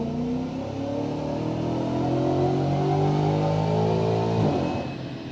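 A BMW F90 M5 on a dyno in 5th gear revs in one long pull, its engine note climbing steadily for several seconds before cutting off and dropping away, loud and close.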